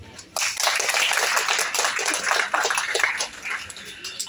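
Audience applause at a kindergarten association scholarship certificate ceremony in Bangladesh, a dense sustained clapping from many hands that swells in after a short pause and continues steadily throughout.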